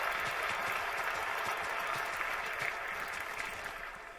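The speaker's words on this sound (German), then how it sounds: "Applaus für Teleklinik." A crowd gives a few seconds of steady, moderately distant applause for a company called Teleklinik, the clapping slowly tapering off.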